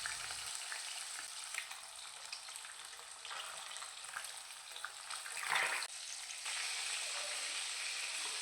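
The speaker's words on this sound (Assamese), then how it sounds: "মাছ কেইপিচ এতিয়া লুটি ফুটি কৰি অলপমান ৰঙচুৱা হোৱালৈকে ফ্ৰাই কৰি ল'ম" Fish pieces rubbed with salt and turmeric fry in mustard oil in a wok, giving a quiet, steady sizzle. A brief louder crackle rises as the pieces are turned, and there is no talk.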